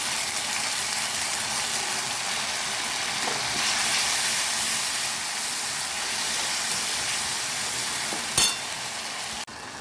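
Ginger-garlic paste frying with onion and capsicum in a pan for a pomfret curry, a steady hissing sizzle that fills the space continuously, close and loud, with a single scrape near the end and no voices.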